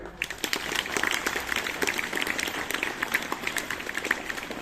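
Fairly faint, scattered clapping from an audience at a government higher secondary school's Independence Day ceremony in Mettur, a loose patter of hands applauding prize winners that continues evenly for several seconds.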